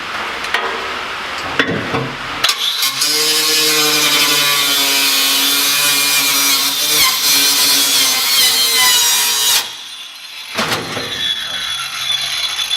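Cutoff wheel grinding through the metal body of a Nissan 350z, a loud close continuous scream with steady tonal bands for several seconds, preceded and followed by clanks and rattles of handling.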